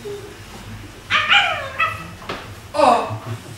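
A dog whines and whimpers in several short rising yelps and cries, close and clear over a quiet background, with a faint voice at moments.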